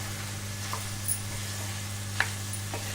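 Mutton liver with tomato, red chili, coriander, turmeric and salt sizzles in a pan, a low steady frying hiss under a constant hum, broken by a few faint clicks of the spoon, with no talking.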